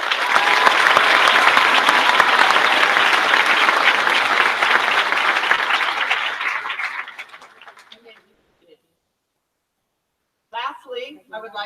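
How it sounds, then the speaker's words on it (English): An audience at a middle school moving-up ceremony claps loudly in a dense, sustained burst that fades out over a few seconds into silence, followed by a brief voice near the end. "Let's have another round of applause."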